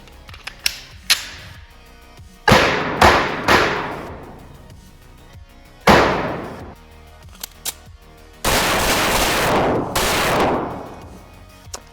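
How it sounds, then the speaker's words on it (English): Canik TP9 Combat Elite pistol fired downrange at an outdoor range, a few loud, sharp reports spaced irregularly with some faint clicks between, ending in a longer burst of noise. "I'm only doing 4 rounds. I'm not counting on my grouping, but we're just gonna throw some rounds down range."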